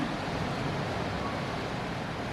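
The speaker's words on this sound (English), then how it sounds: "It is pouring it down." Heavy rain pours down at Victoria Falls, a dense continuous hiss and rushing wash that stays steady and fairly loud throughout, with no voices heard.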